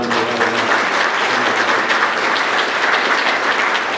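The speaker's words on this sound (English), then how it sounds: "So give them a round of applause one more time for that" Sustained applause fills a banquet hall at the Muleshoe Chamber of Commerce dinner, many hands clapping densely and steadily throughout without letting up.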